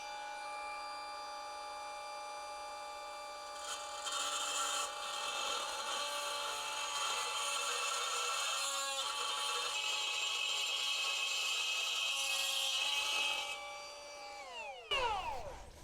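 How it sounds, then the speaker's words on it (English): A die grinder with a carbide bit mills metal on a flatbed build, a steady high-pitched whine with bright grinding rasp that rises and falls in load for about fourteen seconds before spinning down, loud and close. "what I'm going to be doing is just milling over with the die grinder"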